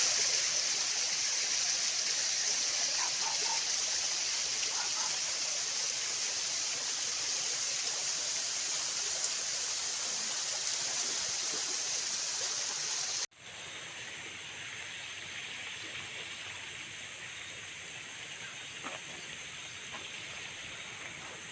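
Small waterfall and stream beside a trail near the historic Amagá train viaduct in Antioquia: steady, dense rushing water fills the whole stretch, close and even, with a brief cut partway through after which the flow continues slightly softer.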